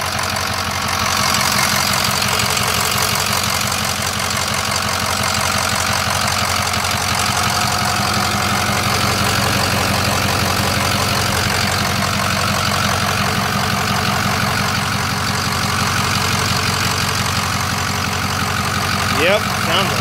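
A flatbed truck's diesel engine idles steadily after repair, a continuous low rumble with a faint knocking texture running unbroken and fairly close for about twenty seconds.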